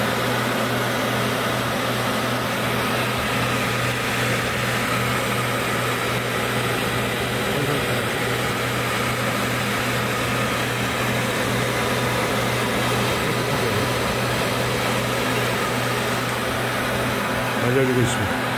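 The drying fan of a Digritter ultrasonic LP record cleaner blows in a steady, even whir with a low hum underneath. It is moderately quiet and close, and a faint brief knock comes near the end.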